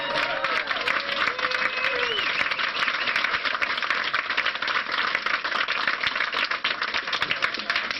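An audience at Brave New Books in Texas claps for Jim Marrs, with brisk crowded applause sustained throughout, a few voices and whistles rising briefly near the start.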